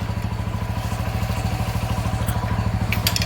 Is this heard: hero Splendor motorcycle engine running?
yes